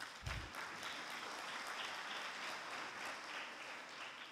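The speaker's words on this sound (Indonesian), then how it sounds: "Kita beri aplaus kepada BCA." An audience claps steadily in a large hall, giving sustained applause for the bank BCA at a seminar, with an even wash of clapping that carries on throughout at moderate volume.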